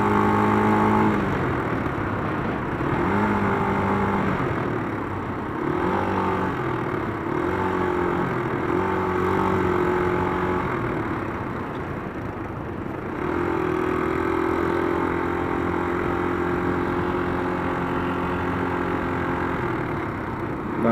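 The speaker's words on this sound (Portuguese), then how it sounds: "Moto depois de velha ficou barulhenta. Até tô curtindo o barulho." A rough, rattling Yamaha Fazer 250 motorcycle engine, noisy with age, idles and revs continuously and loudly nearby, its pitch rising and falling in uneven surges throughout.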